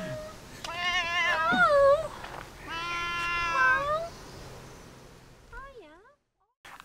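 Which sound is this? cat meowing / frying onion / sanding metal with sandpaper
cat meowing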